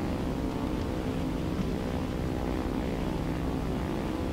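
Engine of an I-185 propeller fighter plane in the War Thunder flight game, a continuous loud droning roar that holds steady throughout, with no talking.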